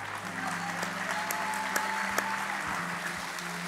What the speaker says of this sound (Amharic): ብጭብጭ ያለ ጭብጨባ